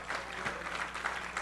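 Congregation applauding during a church service, a steady wash of many hands clapping at moderate, fairly even loudness throughout.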